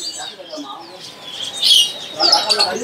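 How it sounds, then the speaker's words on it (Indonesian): Budgerigars chirp and twitter at a bird market, a few sharp calls rising over a busy background with someone talking nearby. "di sini ada yang namanya burung falak ya"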